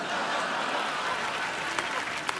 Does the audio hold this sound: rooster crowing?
no